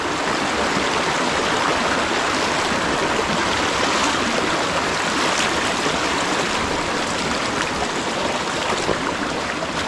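A strong stream of water rushes steadily over a road, a continuous loud, broadband flowing roar with no pauses and no voices.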